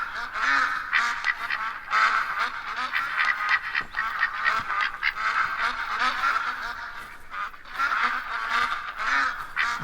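A flock of ducks quacks and honks in theHunter: Call of the Wild at Layton Lakes, a steady chorus of overlapping calls from nearby, with no talking over it.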